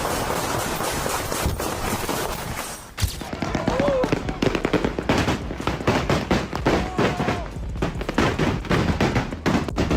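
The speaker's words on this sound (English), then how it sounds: "out of nowhere bullets start flying in your direction" Rapid gunshots fired at a rapper while he streams live on Instagram, a dense burst of sharp cracks after a sudden break, close and loud, with voices talking underneath.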